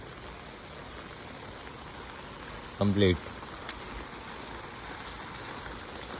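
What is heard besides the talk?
rain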